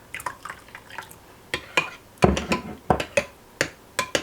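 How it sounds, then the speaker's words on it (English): Warm water is added a little at a time to a thick coconut milk sauce, giving a series of short wet drips, splashes and clicks in an irregular rhythm. "If too much thick, you're gonna add a little bit warm water."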